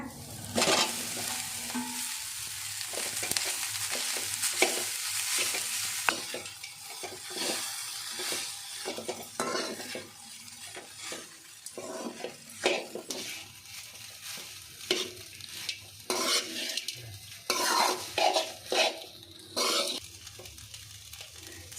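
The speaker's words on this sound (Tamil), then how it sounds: "வடித்து வச்சு சாதத்தை சேர்த்துக்கலாங்க" Cooked rice is stirred into a coconut mixture in a hot pan, with a spoon scraping and tapping in a steady rhythm over a light sizzle throughout and no voices.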